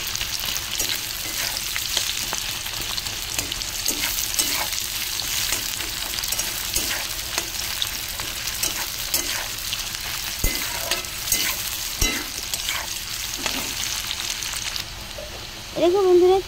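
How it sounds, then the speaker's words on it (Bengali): Onions fry in hot oil with a steady, dense sizzle while a spatula stirs and scrapes through them in the pan, close and continuous throughout. "পেঁয়াজটা দিয়ে ভালো করে আমি খুন্তি দিয়ে নাড়িয়ে নেব।"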